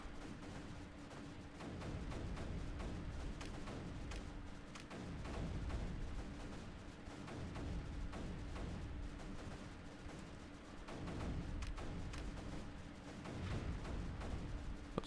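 Cannons and mortars firing in the strategy game Creeper World 3, a continuous barrage of rapid overlapping thuds and booms with a low steady hum beneath, rising and falling in waves.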